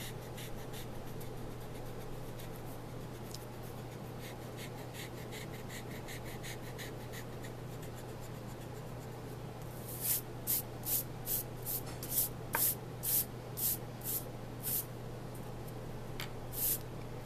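An eraser rubs out pencil lines on drawing paper, first as a soft continuous scrubbing, then as a series of about a dozen short, crisp rubbing strokes in a regular rhythm, close up over a low steady hum.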